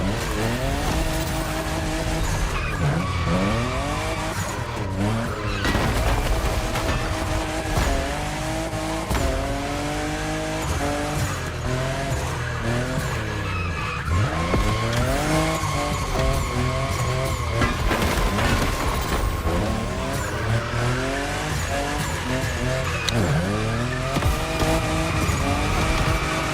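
A fifth-generation Toyota Supra in The Crew Motorfest racing game roars through turns, engine revving up and down while its tires squeal and skid repeatedly, continuous and loud with no speech.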